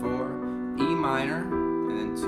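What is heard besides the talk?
No distinct noise like a dog, phone or traffic.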